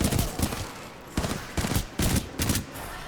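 Bursts of automatic gunfire in Titanfall 2, several short volleys spaced about half a second apart, punchy and close, with no talking.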